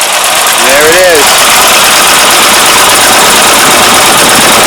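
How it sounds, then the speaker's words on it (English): A Saab 96 engine idles loud and close with a steady rumble, its lifters ticking faintly. A short vocal sound rises briefly near the start. "Lifters are making a little bit of noise, but they were a lot louder before."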